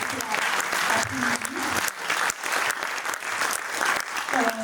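An audience applauds the technical crew, Clément and Jonathan, after a speaker thanks them at a book event; steady, dense clapping fills the room for several seconds with a few voices murmuring underneath.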